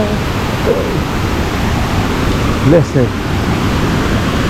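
A steady, even roar of falling water by a river fills the whole clip with broadband rushing noise, while people speak briefly over it.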